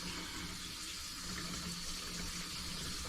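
A sink tap runs at full flow after a leaking pipe under it was repaired, giving a steady, dense rush of water close by that holds constant for the whole few seconds, with no voices.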